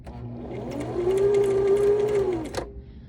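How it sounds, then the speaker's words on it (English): A Brother SM2700 domestic sewing machine running in reverse, giving a steady motorized whir that swells for about a second and a half before cutting off abruptly, heard close and alone. "the machine is going to sew backwards like this"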